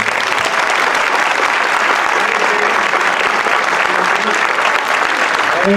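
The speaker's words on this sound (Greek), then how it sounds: "Μπορείτε να αποχωρήσετε με ένα θερμό χειροκρότημα." Warm, sustained audience applause for performers from the cultural association of Vryopida at a traditional music event on Kythnos, with dense clapping at an even, loud level from start to finish and a few voices mixed in.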